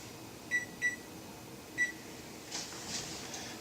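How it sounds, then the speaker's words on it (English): Kitchen timer being set for one hour with three short, clear electronic beeps, followed by soft muffled handling sounds. "So we'll just throw that in the oven and set it. Kitchen timer,"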